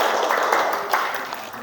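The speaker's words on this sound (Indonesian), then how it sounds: "kita beri tepuk tangan atas jawabannya Rangga" Brief classroom applause from students for a classmate's answer, a short burst of scattered hand clapping at moderate volume that fades quickly.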